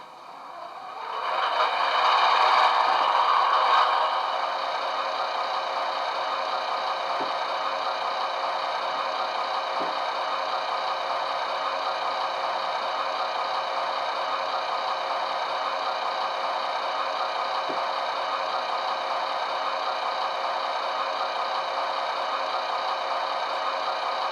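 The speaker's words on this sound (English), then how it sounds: "Let's get the diesel engine going" A locomotive's diesel engine starts with a louder surge, then settles into a loud, steady, droning idle that continues unbroken, with a few faint knocks underneath.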